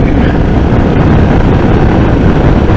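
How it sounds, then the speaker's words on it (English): Heavy, constant wind buffeting hits the microphone while riding a Royal Enfield Classic 350 motorcycle, a loud, unbroken roar with no voice over it. "It's really windy now."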